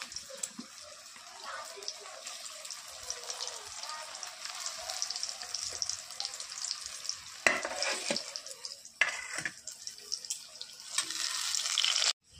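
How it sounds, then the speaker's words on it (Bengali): Green banana pieces frying in hot oil in a wok, a soft continuous sizzle with occasional clinks and brief louder bursts toward the end, no voices. "কুরমার জন্য কাঁচকলাগুলো এভাবে ভেজে নিয়েছি"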